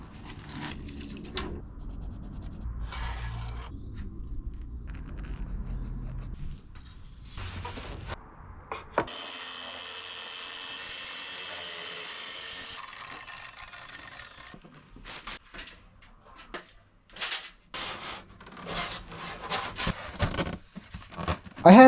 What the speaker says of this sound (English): The 30mm sheets are thin enough that the tracksaw depth is set to just under 35 mm